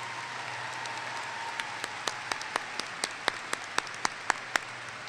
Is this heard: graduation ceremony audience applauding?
yes